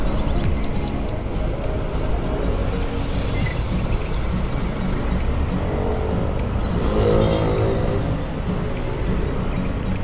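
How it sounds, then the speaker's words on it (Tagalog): Steady road traffic in Davao City, Philippines, with cars passing continuously close by on a busy street after rain, a constant dense engine and tyre rumble with no breaks. "Marami ng sasakyan ngayon dito sa Davao City"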